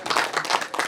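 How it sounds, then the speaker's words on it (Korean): A short burst of audience clapping at a Korean public forum on balanced regional development policy, dense and steady for under a second. "이걸 발굴한 저의 공로를 인정해서 뜨거운 박수를 치주시길 바랍니다."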